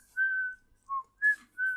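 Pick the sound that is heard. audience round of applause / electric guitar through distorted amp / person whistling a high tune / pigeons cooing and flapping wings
person whistling a high tune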